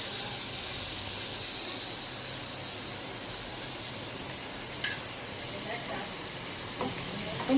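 Ginger garlic paste frying in a pan with turmeric, a steady close sizzle with faint stirring scrapes and a few small clicks, with no speech over it.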